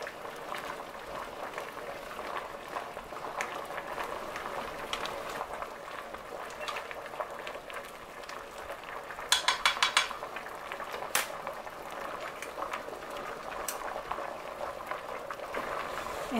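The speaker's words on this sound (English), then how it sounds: "You want to make sure that it comes to a full rolling boil." Poke sallet greens boil hard in a pot of water, a faint steady bubbling and hiss with a brief rattle of metal on the pot midway and occasional light clinks.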